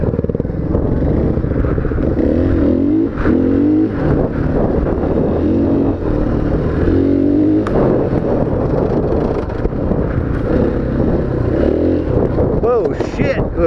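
Motorcycle engine revving and pulling through third and fourth gear on a ride with a friend, a steady loud drone with rising pitch sweeps as gears click, buffeted by wind noise, with riders talking over it.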